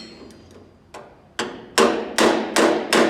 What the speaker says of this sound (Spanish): Otro martillo. El martillo de pena.